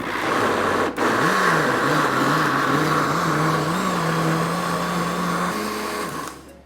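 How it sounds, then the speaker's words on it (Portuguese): An electric blender runs continuously, blending soaked chickpeas with two cups of filtered water for a vegan quiche, with a loud whirring motor whose pitch wavers slightly before it cuts out at the end. "Eu vou bater ele com 2 xícaras de água filtrada."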